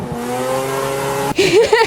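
A Mazda RX8 rotary-engined race car in a budget RX8 Cup racing series holds a steady high-pitched engine drone at high revs, then shifts into a rising, warbling rev burst, loud and close with no talk.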